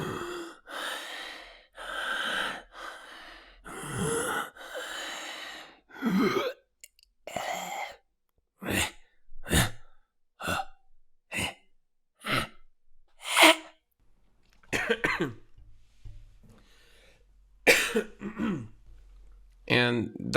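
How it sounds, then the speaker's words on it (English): A person breathes in and out in close, raspy bursts with wet, slimy throat noise, recorded as creature sounds for the game DARQ, some breaths long and ragged, others short and sharp, with quiet gaps between. "those breathing sounds, in and outs. Just a little bit of slime like in my throat trying to breathe"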